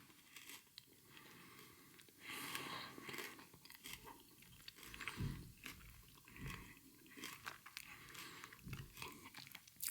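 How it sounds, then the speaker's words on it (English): A Double Decker chocolate bar is bitten and chewed close up, its crisp cereal layer crunching in quiet, irregular bursts over about ten seconds, with no talking. "You can probably hear me crunching on the cereal part."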